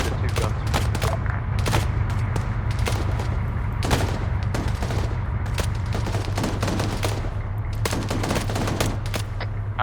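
Rapid gunfire from two guns engaging during an airsoft-style skirmish, dense overlapping bursts and single cracks filling the whole stretch over a steady low rumble, loud and continuous with no talk.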